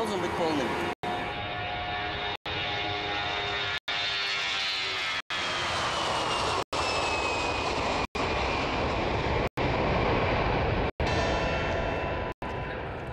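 A passenger airplane's engines give a continuous loud drone with a steady whine, heard from inside or close by and repeatedly cut by brief silent gaps. Speech sits faintly under the roar.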